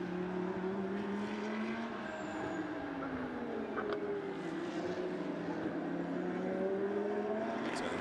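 Lamborghini Super Trofeo race cars at Sepang circuit, a steady loud engine drone with rising and falling pitch as cars pass, continuous throughout with no talk.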